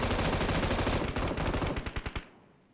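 Rapid automatic gunfire in the mobile battle-royale game PUBG Mobile, a loud burst of closely spaced shots that slows into a few distinct final rounds before cutting to silence, with no voices.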